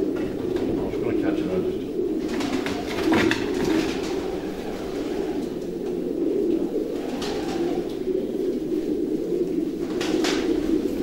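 Pigeons cooing in a racing pigeon loft, a soft low murmur running steadily throughout, with someone talking over it.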